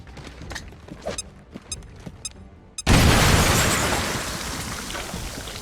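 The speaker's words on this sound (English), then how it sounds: "And then we'll get an acid grenade on both of these guys. Throwing grenade." An acid grenade from XCOM: Chimera Squad is thrown with a few short clicks and whooshes, then detonates in one loud, sudden blast that fades over several seconds.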